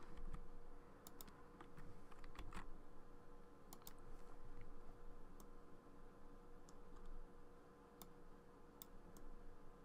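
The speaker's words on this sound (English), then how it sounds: "Then press Shift D on your keyboard" Quiet computer keyboard key presses come as scattered, sharp clicks, some in quick pairs and short bursts, with pauses between, over a faint low room hum and with no talking.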